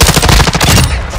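Rapid automatic gunfire in Call of Duty: Modern Warfare 2, a close, loud burst of evenly spaced shots in a quick rhythm that cuts off shortly before the end.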